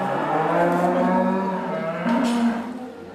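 Cattle moo in a stable near Minami Soma, Fukushima, left behind by an evacuated farmer; a long, loud, close bovine call with harmonic tones and a second rising moo near the end, no talk.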